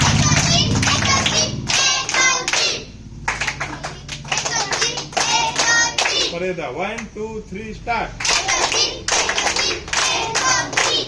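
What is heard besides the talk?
children clapping in a three-beat rhythm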